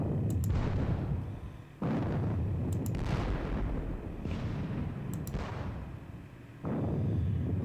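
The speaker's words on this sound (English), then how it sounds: "Jenkins Horse Artillery will shoot at them" Repeated booming artillery shots in the Civil War strategy game WDS Gettysburg, including Jenkins Horse Artillery and Virginia batteries, about four heavy blasts roughly every two seconds, each with a long rumbling decay, loud and close with no talk.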